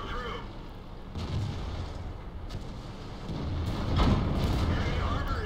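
In the World of Tanks video game, tank cannons fire in a Clan Wars battle: several heavy booming shots with rumbling tails land a second or so apart while someone talks over the gameplay.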